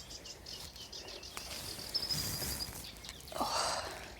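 A reed warbler sings by the clear water's edge at Deeping Lakes Nature Reserve in spring, a faint, scratchy chatter of high notes over a soft outdoor hiss, with light footsteps nearby.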